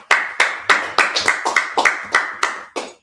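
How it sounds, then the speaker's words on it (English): A congregation at a Sabbath service claps in a steady rhythm, about a dozen sharp, close hand claps. "Let's clap it up."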